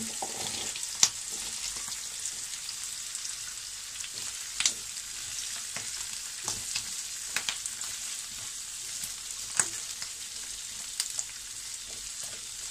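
Sliced red, yellow and green capsicum sizzle steadily in a hot pan with spring onion, a dense continuous crackle broken by a few sharp pops and light stirring scrapes.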